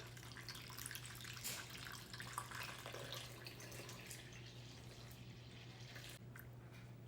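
Water runs into a bowl of sourdough starter for a chia seed loaf, a faint steady trickle and splash under a low electrical hum in a kitchen.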